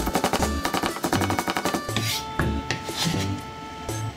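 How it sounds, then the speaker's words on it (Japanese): A knife chops garlic coarsely on a board in quick rhythmic bursts of sharp taps, with light clinks of metal and pauses between runs of cuts. "ではまず切るニンニク、粗みじんぐらいでね切ってください。"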